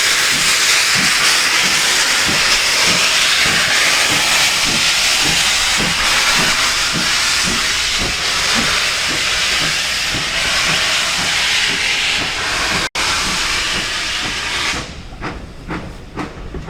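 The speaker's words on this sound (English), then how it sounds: "allow XGWR Hall-class locomotive Raveningham Hall to blast away from Bishop's Lydeard Station" A GWR Hall-class steam locomotive departs Bishop's Lydeard Station on the West Somerset Railway with loud, rhythmic chuffs over a steady roar of hissing steam, the exhaust beats quickening before the sound drops off near the end.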